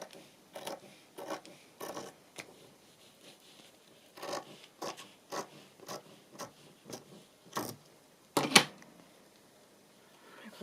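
Scissors snipping across a piece of fabric, a series of quiet crisp cuts and rustles in irregular bursts, with one sharper snip near the end.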